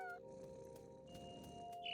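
Cat in the What Remains of Edith Finch video game makes a soft, faint meow over a steady tonal game backdrop, a brief call at the start and another near the end.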